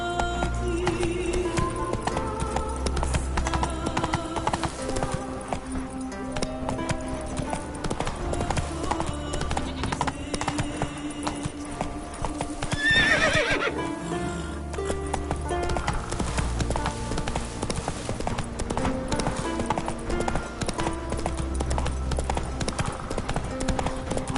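A horse gallops steadily in The Witcher game, its rhythmic hoofbeats running throughout over background game music, with a brief whinny midway.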